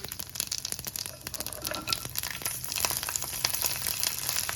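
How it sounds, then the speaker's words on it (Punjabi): Cumin and garlic fry in hot mustard oil with a dense, continuous crackling sizzle full of rapid pops. It is close and steady throughout, with no voices. "ਜੀਰੇ ਨੂੰ ਆਪਾਂ ਚੰਗੀ ਤਰ੍ਹਾਂ ਭੁੰਨ ਲਾਵਾਂਗੇ ਤੇ ਇਹਦੇ ਵਿੱਚ ਆਪਾਂ ਲਸਣ ਨੂੰ ਐਡ ਕਰ ਦੇਵਾਂਗੇ"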